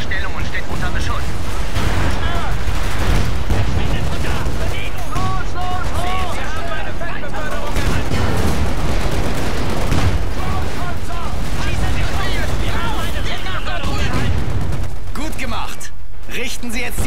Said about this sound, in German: Eine unserer Stellungen steht unter Beschuss.